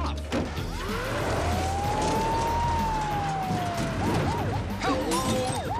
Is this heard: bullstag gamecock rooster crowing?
no